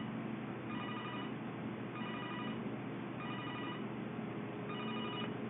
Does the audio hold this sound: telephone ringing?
yes